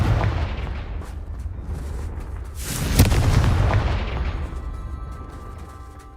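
A Confringo blasting spell in Hogwarts Legacy goes off as a heavy booming explosion over low rumbling background, peaking sharply about halfway and then fading out slowly.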